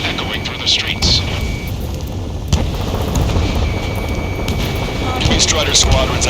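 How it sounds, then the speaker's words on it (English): Jet engines roar and gunfire rumbles through city streets in the Ace Combat 7 combat flight game, a dense, continuous low roar with scattered sharp bursts and a booming hit near the middle. "Gunfire and the roar of jets echoing through the streets."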